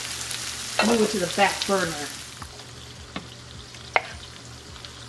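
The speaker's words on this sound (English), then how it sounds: "While the chorizo continues to cook, I'm gonna move it to the side so that we can get started on cooking our egg" Chorizo sizzles in a frying pan for a Mexican torta, a steady close crackle heard under a man's short remark, followed by a few light clinks of a utensil against the pan.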